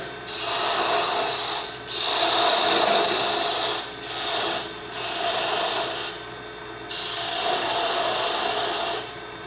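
A parting tool cuts into wood spinning on a lathe for sea life ornaments, a loud raspy scraping hiss repeated in four or five sustained passes separated by brief lulls.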